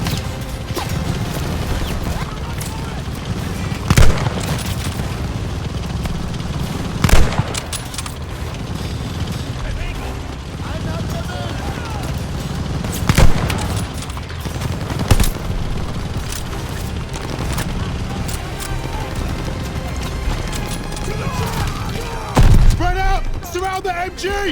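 Machine gun fire and explosions from Call of Duty Vanguard form a dense, loud rattle of mechanical clatter, with several sharp blasts punching through at intervals while voices shout under the din.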